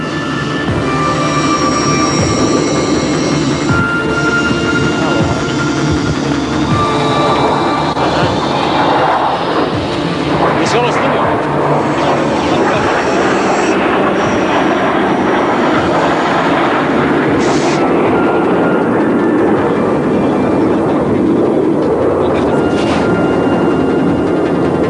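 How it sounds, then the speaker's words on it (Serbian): MiG-29 and Su-27 jet fighters take off on full afterburner, a loud sustained roaring jet blast that swells and rumbles for the whole stretch, with no voices. "Avioni MiG-29 i Su-27 radili su poletanje na forsažnom režimu, to je s punom snagom"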